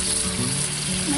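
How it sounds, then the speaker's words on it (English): Beef broth hits a hot Dutch oven for shepherd's pie and sizzles in a steady, close, continuous hiss that holds level for the whole moment, with a faint tonal hum underneath. "I'm going to add in"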